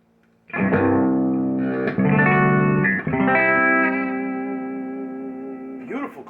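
Clean electric guitar through a Joyo Zombie distortion pedal left in its clean setting, sustained chords ringing out with reverb and long decays, a few strums spaced across the passage, loud and close.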